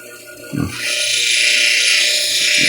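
A lapidary grinding wheel running wet with slurry water as a beach stone is polished, giving a steady, loud whirring grind that swells after a brief bump and holds.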